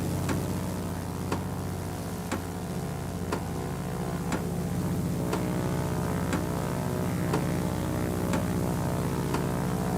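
Multi-engine propeller drone of a B-17 bomber in a combat flight video game, a steady loud continuous hum with regular faint ticks about once per second, no voices.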